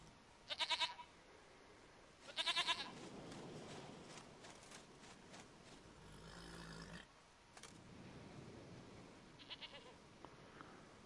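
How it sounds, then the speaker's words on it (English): Goat bleating in The Witcher video game, two short loud bleats near the start over a faint ambient game background, with softer bleat-like calls later on. "Goat of mine, dearest, sweetest goat"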